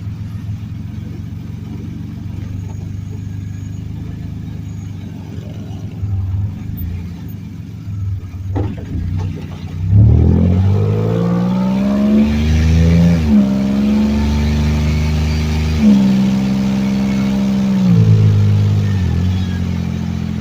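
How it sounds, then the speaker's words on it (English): A race-prepared project car fires up from a quiet idle-like hum, then its engine catches and revs through several rising and falling pulls as it drives off, loud and close from inside the cabin. "I'm going to fire this car off and we're going to head home."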